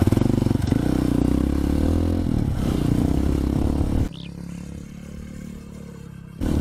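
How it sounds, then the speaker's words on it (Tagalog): Rusi KRY 150 motorcycle engine and exhaust on a dirt trail in Lubao: a loud, steady, close engine drone with clattering, dropping to a quieter idle-like rumble before surging again. "Tsaka parang maganda yung tunog ng tambucho."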